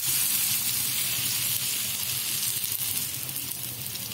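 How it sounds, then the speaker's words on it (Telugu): Sweet ragi dosa batter sizzles as it is spread on a hot pan, giving a steady, close, moderately loud hiss that eases slightly toward the end. No one speaks. "ఇప్పుడు ఇది కొంచెం కొంచెంగా తీసుకుంటే ఇలా మనం దోశలా వేసుకుందాం."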